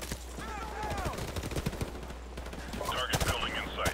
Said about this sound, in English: Where am I getting shot at from?